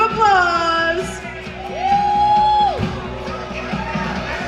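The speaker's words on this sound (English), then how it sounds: "Give a big round of applause." Audience at a WinterCon 2023 cosplay contest whoops and yells as the next contestant takes the stage, with loud cheering and crowd noise over background music and some stray voices.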